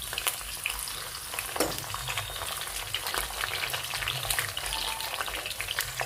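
Green chillies fry in a pan for an ivy gourd curry, giving a steady, dense crackling sizzle with a few sharper pops and scrapes throughout, no voices.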